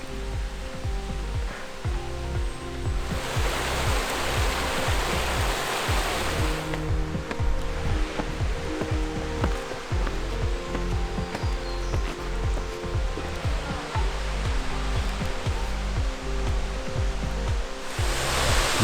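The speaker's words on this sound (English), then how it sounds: "Let's hope this waterfall has a little bit more water than some of the others we've seen." Munising Falls, a waterfall in Michigan's Upper Peninsula, roars with a steady, dense wash of falling water. The sound is loud and unbroken, with no voices over it.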